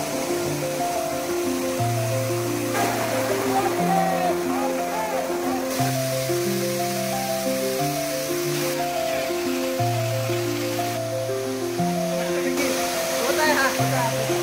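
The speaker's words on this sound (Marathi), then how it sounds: "धबधबा बघा." A hidden waterfall near Chiplun in the Konkan roars in a constant, loud rush of falling water, with a sustained tonal hum running over the top.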